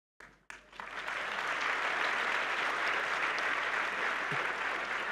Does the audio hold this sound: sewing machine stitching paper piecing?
no